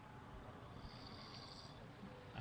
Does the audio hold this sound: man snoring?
yes